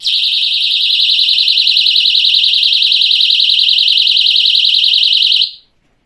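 A piercing, high-pitched personal alarm shrieks continuously with a rapid warbling pulse, loud and close, then stops abruptly near the end.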